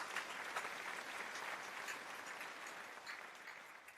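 A church congregation applauds together, a dense rattle of many hands clapping that starts strong and tapers slightly toward the end, fairly distant and soft.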